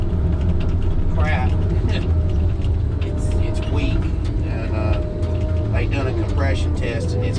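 A motor running poorly on a tracked machine with a failed grease fitting, a loud, steady low engine rumble with squeaky metallic whines over it, while someone talks through much of it.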